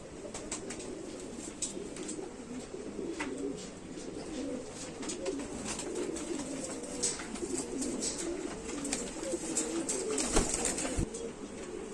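Pigeons coo repeatedly close by, soft throaty calls over low background noise, with a few sharp clicks and occasional wing sounds.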